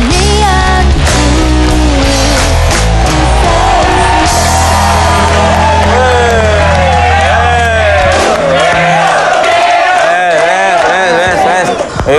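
A studio audience cheers and claps for a band on an Indonesian TV talk show, a loud sustained crowd roar with yells running under music throughout.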